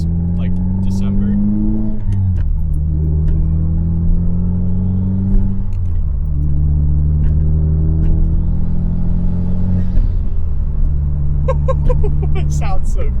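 A 2022 Subaru WRX running a big turbo drives along with its engine rumbling and rising through several revs and gear shifts, loud from inside the car, with a voice talking over it at times.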